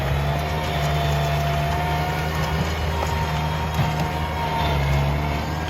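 Tractor about 1.2 m wide with a large implement mounted on the rear, its engine running steadily at a low idle-like hum, continuous and fairly loud with no talking.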